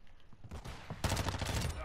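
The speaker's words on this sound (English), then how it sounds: "Taking effective fire." Rapid gunfire in Call of Duty, with a Lachmann sub submachine gun, sounds in dense, loud bursts. A short, sparser volley gives way to a heavier sustained burst near the end.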